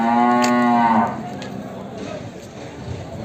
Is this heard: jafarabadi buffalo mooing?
yes